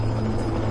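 A rescue helicopter on a mountain slope drones with a loud, steady low rotor thrum and a constant engine whine, close by and unbroken, with no talk over it.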